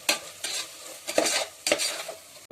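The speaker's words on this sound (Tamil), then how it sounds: "பிரியாணி மசாலா, மிளகாத்தூள், தனி மிளகாத்தூள் போட்டு மிக்ஸ் பண்ணிட வேண்டியது." A spoon stirs biryani masala and chilli powder into a chicken biryani base in a pot, giving four or five quick scraping, sizzling strokes in a steady rhythm, close and alone without talk.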